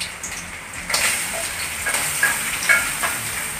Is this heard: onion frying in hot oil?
yes